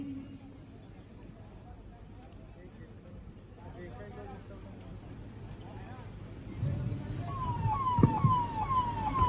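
A siren wails and rises from the distance during an emergency mock drill with ambulances and fire service, growing louder under steady talk and outdoor commotion.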